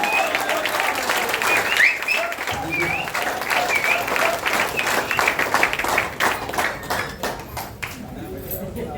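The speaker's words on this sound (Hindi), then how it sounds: "जोरदार ताली होनी चाहिए, बजा सकते हैं, ताली जोरदार होनी चाहिए" Audience applause at a business seminar hall, dense sustained clapping from a crowd that runs through the whole stretch and thins out near the end, with voices faintly mixed in.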